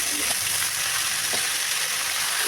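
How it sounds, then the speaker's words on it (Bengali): Ash gourd frying in a pan with dried red chilli, bay leaf and nigella seeds, a continuous bright sizzle with a few soft stirring scrapes. "তাতে শুকনো লঙ্কা, তেজপাতা আর কালো জিরে ফোড়ন দিয়ে চাল কুমড়াটা দিয়ে দিই।"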